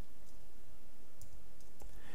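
Computer keyboard keys click in a few sparse, light taps over a steady faint background hum, with no speech.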